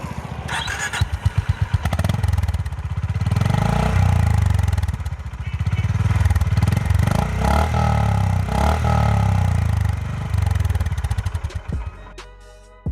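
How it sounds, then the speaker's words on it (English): A Royal Enfield-style CT350 motorcycle with a thumpy single-cylinder exhaust note, loud and close, revving up and settling through several throttle swells before cutting off near the end. "has a thumpier exhaust note, which is very sweet to hear"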